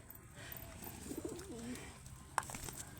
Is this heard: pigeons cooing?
yes